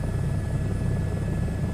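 A helicopter in a VR flight simulator game gives a steady, close rotor whir with a low chopping pulse and a thin high whine running throughout, with no speech.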